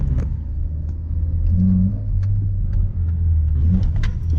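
A Toyota MR2 engine rumbles low and steady, its pitch climbing slightly as it revs and pulls away on a hill start, close and continuous.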